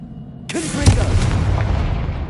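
Confringo, a blasting spell in Hogwarts Legacy on PS5, sets off a sudden heavy explosion. A crackling, rumbling decay follows and lingers as debris settles, loud and close.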